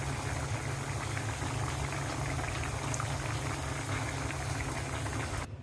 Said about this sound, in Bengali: সুন্দর বলক উঠতেছে টকবক করে